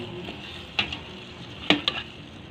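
A spoon stirs chicken tinola seasoned with fish sauce in a cooking pot, giving a few sharp metallic clinks against a soft bubbling simmer, close and quiet.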